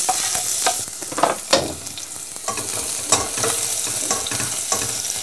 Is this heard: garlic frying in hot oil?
yes